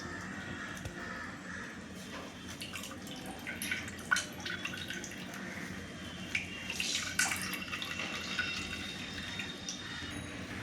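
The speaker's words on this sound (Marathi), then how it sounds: "आता आपण हा परत गाळून घेणार आहोत मगाचसारखा" Coconut milk and kokum juice for sol kadhi pour through a strainer, giving a steady, close trickle with scattered drips across the whole stretch and no talking.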